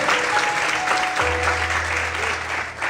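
A church congregation applauds during a sermon, a thick, continuous wash of clapping with a low sustained hum entering partway through.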